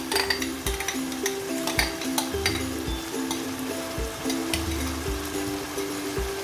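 Boneless chicken frying with onion and tomato paste in a handi over high heat, a close sizzle punctuated by repeated scrapes and clicks of a spoon stirring against the pot.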